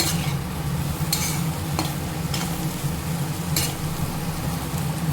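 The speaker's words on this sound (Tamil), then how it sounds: "நம்ம கிளறி விட்டு எடுத்துப்போம்." Bitter gourd stir-fry cooks with masala powder in a pan, a dense continuous sizzle filling the clip, broken by a handful of spaced spoon scrapes and taps, near and steady with no voices.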